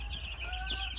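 Chickens on a small poultry farm cluck and chatter softly in a brief, faint burst, with no voices.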